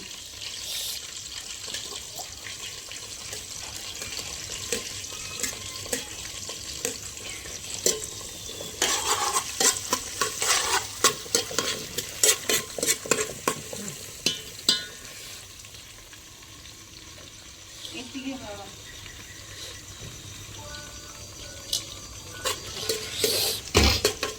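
Chilli, onion and tomato frying in a pan, a continuous sizzle broken by repeated clattering stirs and scrapes of a utensil against the pot, close by, with no voices.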